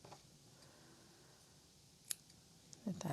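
Scissors snip through yarn from a crochet granny square, a couple of faint, quick clicks in a quiet room with a brief sharper snip near the end.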